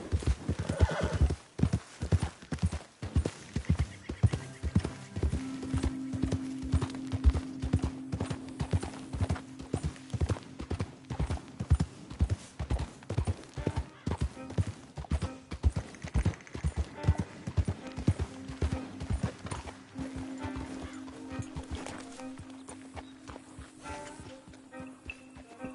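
Horse hooves clip-clop steadily in Red Dead Redemption 2, a close, regular walking rhythm running throughout with an occasional whinny and a faint tonal drone underneath.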